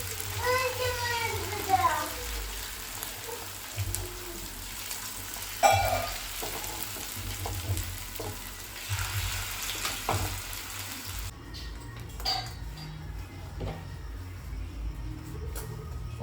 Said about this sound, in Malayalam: ഇനി ഇത് മെല്ലെ കിടന്ന് മൊരിയട്ടെ